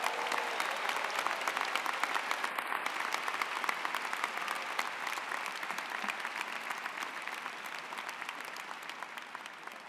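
A large audience at a business school commencement gives sustained applause for a keynote speaker, a thick wash of clapping that holds steady and tapers only slightly near the end.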